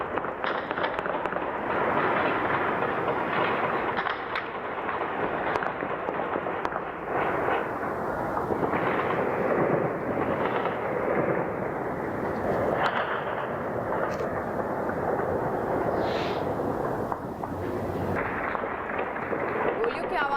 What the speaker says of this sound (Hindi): गोलियों की आवाजें आप ठीक ढंग से सुन रहे होंगे